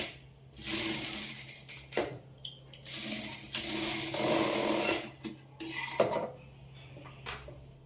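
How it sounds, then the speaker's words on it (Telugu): A sewing machine stitches a cross-cut boutique-style blouse in several short bursts of close mechanical whirring. Brief pauses and small clicks and knocks fall between the runs. "ఇప్పుడు మనము దీన్ని స్టిచ్ చేసుకుంటే సరిపోతుంది."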